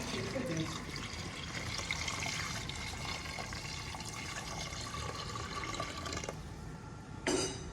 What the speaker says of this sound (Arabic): بعد ما كانوا تقلاو المكونات مليح، نضيف كميه من الماء.